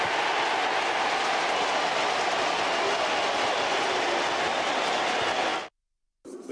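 A miniature railway train of the Miniature Railway Club of Victoria runs with a steady, loud rumble and rattle of wheels on track, continuing unbroken for several seconds before cutting off abruptly near the end.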